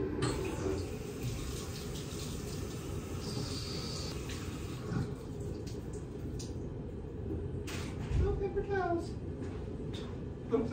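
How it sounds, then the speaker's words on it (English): A sink tap runs in a public accessible restroom as hands are washed, a soft steady stream of water with splashing and faint rustles, fairly quiet, with brief murmurs of voices in the background. "Hand washing time"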